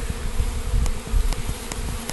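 Honey bees from a newly installed package buzz steadily at close range at a honey farm, a dense continuous drone with no talk.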